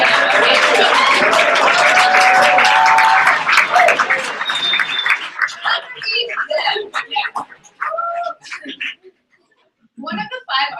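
An audience claps at a Sikh monologue performance in New York, with dense, loud applause for about five seconds that thins into scattered claps, and a voice comes in over the fading clapping.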